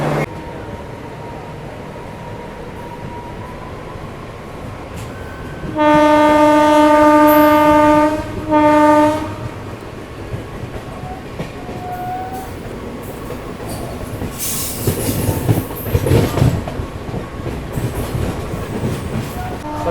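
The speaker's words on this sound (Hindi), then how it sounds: "अभी अपनी ट्रेन निकल गई है उदलगुड़ी से" The Naharlagun–Guwahati Shatabdi Express pulls out of Udalguri, sounding a loud two-part horn blast over steady rolling rail noise and clatter, with a louder rumble building near the end.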